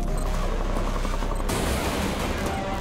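Upgraded turrets in the Rage 2 video game fire dense, continuous gunfire with a heavy low rumble. The volume stays loud and steady throughout, and the texture shifts partway through.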